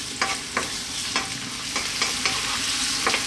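One onion and a tablespoon of chopped garlic frying in a pan over above-medium heat, a continuous close sizzle with regular clicks and scrapes of stirring roughly every half second, no voices.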